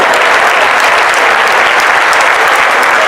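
Loud, sustained applause from a large crowd, dense clapping filling the whole moment without a break.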